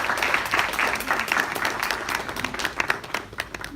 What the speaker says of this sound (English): Shall we please give all of them a round of applause?